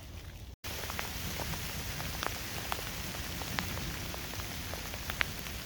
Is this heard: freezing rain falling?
yes